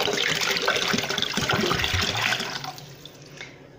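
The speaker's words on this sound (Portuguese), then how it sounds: "Vou acrescentar aqui um litro de água." A litre of water pouring steadily into a container while making Swiss lemonade, a continuous close splashing gush that tapers off toward the end, with no talking.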